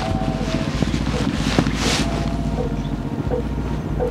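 Gusty wind blowing at a small roadside shrine at night, a steady broad rushing roar with buffeting on the microphone and a few faint knocks, heard up close.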